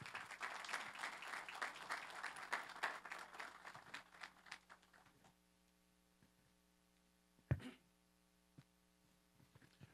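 Audience applause for a panel speaker at an evening panel event, a dense crowd clapping for about five seconds before fading to a quiet room with a steady mains hum and a few scattered sounds.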